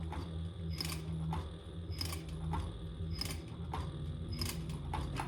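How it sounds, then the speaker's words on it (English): A sewing machine runs back over earlier stitching on a Tag-Along project, a steady mechanical hum with regular sharp clicking beats roughly every second, close and alone. "I'm just going over my previous stitching."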